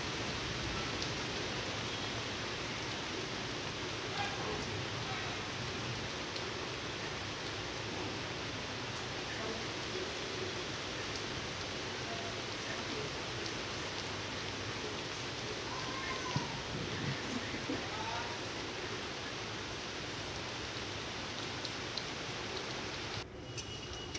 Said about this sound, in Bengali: বড়া ভাজতে ভাজতে দেখি বাইরে বৃষ্টি এসে গেছে।